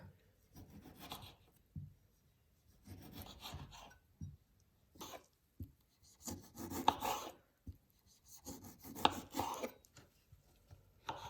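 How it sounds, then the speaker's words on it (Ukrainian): A kitchen knife slices a halved tomato into half-rings for homemade pizza, giving a series of soft, irregular cutting and scraping strokes with short pauses between them. "Розрізаємо помідор на дві частини і будемо нарізати полукольцями."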